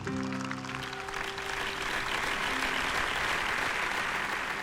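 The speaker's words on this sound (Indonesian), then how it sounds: "Boleh tepuk tangan dong untuk Anita." A studio audience applauds during a televised Indonesian talent stage show, with steady, loud clapping throughout and a few sustained musical tones underneath at the start.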